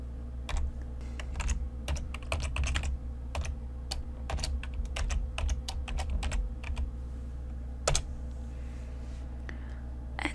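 Rapid keystrokes on a computer keyboard, close and crisp, a continuous stream of clicks with brief irregular gaps over a low steady hum.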